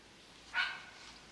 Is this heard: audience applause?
no